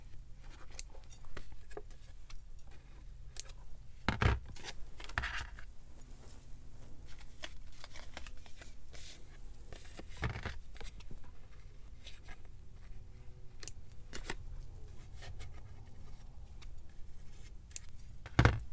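Scissors cutting fabric tape, with a few soft snips scattered among quiet rustling and handling noise at close range, and no talk.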